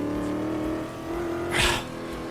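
A race car in a racing sim brakes hard at a bridge, its steady engine tone dropping while a brief loud rush of tire or brake noise swells near the end.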